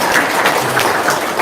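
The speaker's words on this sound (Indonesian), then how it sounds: "Tepuk tangan luar biasa" Brief applause from an audience at a religious talk, a short burst of crowd clapping with loose rhythmic peaks, fairly loud and near.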